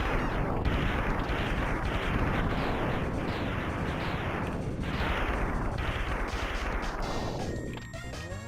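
Mega Man X buster shots hammer a boss's blue orb in rapid, loud, repeated bursts of crunchy blasts and explosions, layered with game music.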